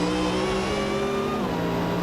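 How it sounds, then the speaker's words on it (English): A Dodge Challenger funny car revs hard at the drag strip starting line, a loud, sustained, harsh engine roar with a slight pitch shift near the end, filling the whole moment with no talk over it. "Into the stage he goes, revs up."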